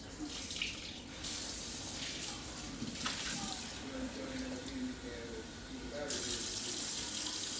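Water runs steadily from a kitchen tap to fill measuring cups for cooking rice, a continuous close splashing flow with brief pauses, while a person talks over it.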